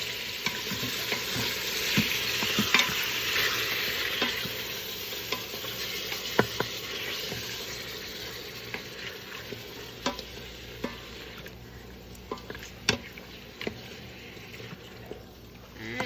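Meat sears in an Instant Pot with a continuous hiss, broken by occasional sharp clicks and taps of a utensil moving the pieces around, at a moderate level with no talk.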